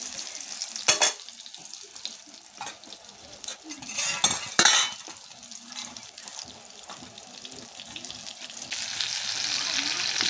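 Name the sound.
frying eggplant slices in oil in a pan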